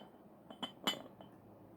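A few light clinks of a porcelain lid knocking against a teapot, quiet and close, in quick succession.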